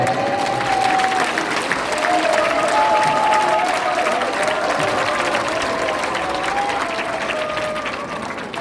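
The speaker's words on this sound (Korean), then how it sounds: "멋진 말씀 주신 우리 장학일 총재님께 뜨거운 박수를 보내십니다" A hall audience gives a warm round of applause at a Monday morning education session, dense continuous clapping that holds steady for several seconds with a voice speaking over it.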